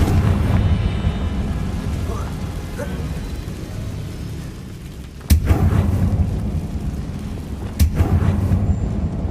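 Confringo fire spell bursts in Hogwarts Legacy, two sudden deep booms a few seconds apart over a dense rumbling game ambience, the blasts sharp and loud against the steady background.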